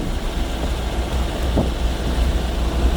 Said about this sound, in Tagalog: Mahangin ang panahon dito, mahangin, malamig.